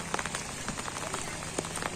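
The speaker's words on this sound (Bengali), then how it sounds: "বৃষ্টির তামসা দেখতেছি" Morning rain falls over waterlogged fields near a village market, a faint, steady patter of drops on surfaces with scattered sharper taps, no voices.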